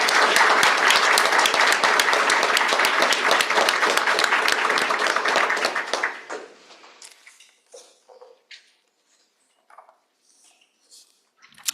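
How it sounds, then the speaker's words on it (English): An audience at an honors convocation breaks into loud, sustained applause that lasts about six seconds, then quickly fades to a few scattered claps and small sounds in a quiet hall. "Let's have another round of applause for everyone in that division."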